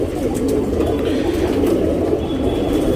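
Racing pigeons readied for a tournament coo softly and continuously, a low murmuring flock sound close by, with faint higher chirps now and then.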